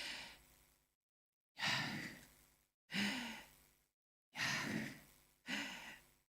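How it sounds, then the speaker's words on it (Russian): A man slowly demonstrates deep, audible breaths close to the microphone. Five long airy breaths rise and fade, with silent pauses between them. "И потом вдох."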